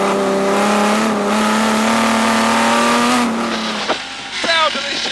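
A vintage racing car at the Goodwood Revival brakes and works through a chicane, engine droning at steady pitch, then downshifting and blipping as revs rise and fall, loud and close, with someone talking over it.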